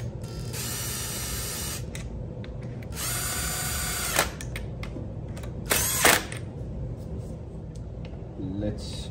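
A cordless power tool whirs in short bursts as it runs nuts onto a Stihl chainsaw, several spins separated by pauses, with light clicks and a clank close by.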